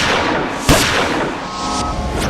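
A single sharp gunshot cracks loudly out of a dense, noisy background, followed by a lingering rumble.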